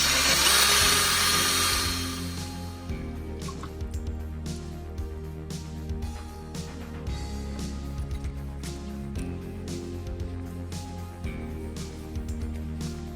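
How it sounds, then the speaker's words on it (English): Steady mechanical whir of an 800 grit finishing disc wet sanding a Nintendo GameCube Jewel shell, a continuous droning hum with faint periodic scuffs, close and even throughout. "This is after another minute or so of wet sanding with the 800 grit finishing discs."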